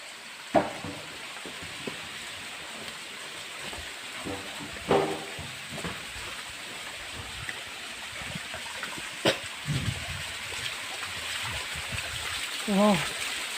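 Small jungle waterfall giving a steady soft rush of falling and splashing water, heard at moderate distance with occasional knocks and rustles near the recorder.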